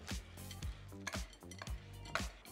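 Cookie batter with chocolate chips being mixed in a bowl, heard as repeated scraping strokes with light clinks of a utensil against the bowl, about five rhythmic passes, close and clear with no talking.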